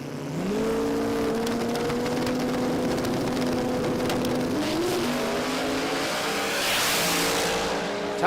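Drag racing cars launching and accelerating down the track on 275 tyres in an import-versus-domestic pass, loud engine notes climbing through gear changes, heard from trackside with a constant roar.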